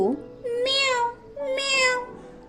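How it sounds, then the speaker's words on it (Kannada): Two drawn-out cat meows, each rising then falling, close and clear with a short pause between them. "ಎಂತ ಚಂದ ಬೆಕ್ಕು"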